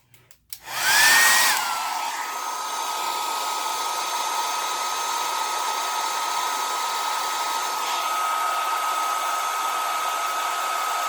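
Hair dryer blowing on wet alcohol ink painting: a steady, close whoosh of air that starts abruptly, swells briefly, then holds an even drone for the rest of the clip.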